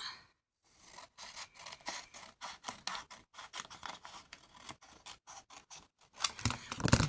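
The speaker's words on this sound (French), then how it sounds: "Donc, je vais couper par là." Scissors cut paper for scrapbooking in a rhythmic series of crisp snips close to the mic, with short pauses between strokes and a rougher scraping cut at the end; no speech.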